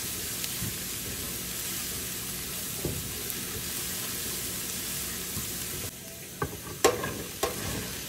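Spices with salt and turmeric are stirred in a frying pan, a steady soft sizzle with scraping strokes throughout, sharper clinks and scrapes toward the end.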